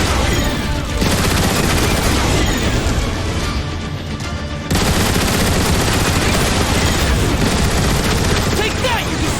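Turret gun emplacements fire at Decepticon Seekers in the Transformers: War for Cybertron video game, a dense, loud stream of rapid gunfire and blasts that continues throughout, with voices speaking amid the barrage.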